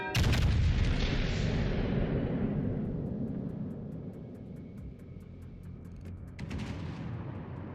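A broadside from the Vermont battleship in World of Warships Legends: a heavy booming blast at the start that rolls off into a long rumbling decay, with a second swell near the end, loud and close.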